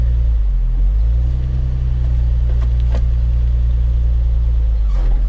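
Steady low car engine idling and rumbling nearby, with faint clicks and small mechanical knocks as the vehicle creeps backward.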